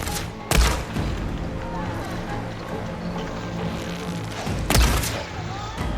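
Gunfire and heavy thumps in Horizon Forbidden West as machine riders are fired upon across a field: two loud, sharp blasts about four seconds apart over a dense, busy game soundscape, with no voices in between.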